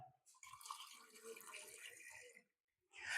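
Water is poured steadily from a measured cup into a jar already holding marbles and sand, a gurgling splash lasting about two seconds, then a brief pause before more pouring starts.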